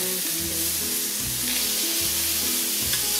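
Spaghetti squash frying steadily in a pan, a constant close sizzle with light scraping and clinks as pieces are turned and moved with tongs, no talking.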